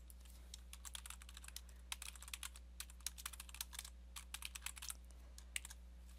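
Typing on a computer keyboard while entering an email subject in Google Forms, quiet irregular bursts of close key clicks over a steady low hum.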